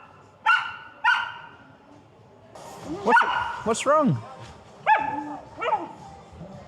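A friendly dog on a city street in Wuhan, China, lets out several short barks and yips that rise into whimpering whines. A person speaks to it between the barks.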